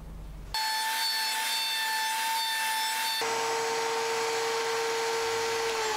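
A power saw cuts wood for a chisel rack. It starts with a sudden loud whine, holds a steady high-pitched tone, then drops to a lower pitch partway through as the cut continues, loud and close.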